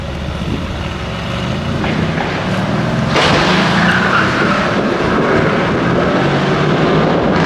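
A car skidding during a staged movie car chase on a London street, a loud broadband tire screech and engine roar swelling around three seconds in and holding steady amid busy city noise, with no talk.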